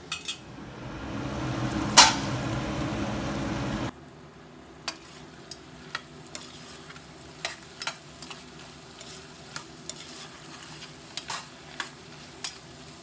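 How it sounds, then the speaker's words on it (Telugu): Goat head curry frying in oil, a steady sizzle at first, then a quieter stretch of spoon or ladle strokes tapping against the pot at regular intervals, close and without talk. "ఒక్కసారి ఇదంతా బాగా కలిపేసి ఇలా ఆయిల్ అంతా రిలీజ్ అయిన తర్వాత"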